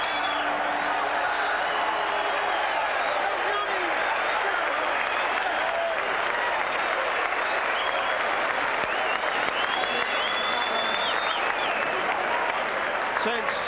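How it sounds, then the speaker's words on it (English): Boxing crowd at the Mirage in Las Vegas applauding a fighter, a dense, continuous roar of clapping and cheering that fills the whole stretch, with a commentator's voice running over it. "The crowd appreciating the efforts, particularly of Australian Jeff Fenech."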